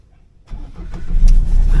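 A car engine cranks and catches after a brief silence, then settles into a loud, steady rumble close by.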